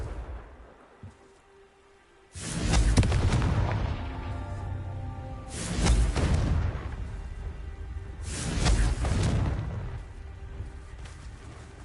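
Three heavy blasts of the Confringo explosion spell in Hogwarts Legacy, each a loud booming burst with a whooshing tail, spaced about three seconds apart.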